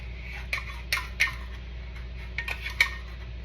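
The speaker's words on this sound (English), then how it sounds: "I'll just take the spatula and I'll get the remaining milk" Spatula scraping leftover buttermilk from a container, heard as a run of light taps, clicks and scrapes against the vessel at irregular intervals over a low steady hum.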